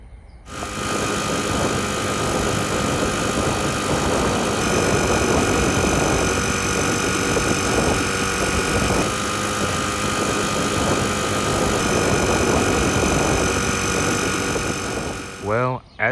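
A Bike Bug friction-drive motor with a new drive roller, mounted on a Sears bicycle cruising at 16 mph, drones in a steady, loud high-revving whine with wind rush throughout, easing off at the very end.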